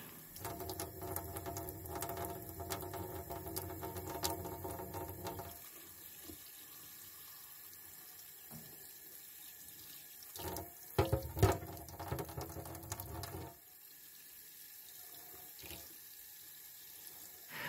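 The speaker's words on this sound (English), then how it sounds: "Lots of ash residue is coming out of the ceramic piece when it is backflushed." A clogged ceramic diesel particulate filter is backflushed with water, giving a continuous rushing, splashing flow that drops to a thinner trickle midway and swells again with brief gurgling bursts.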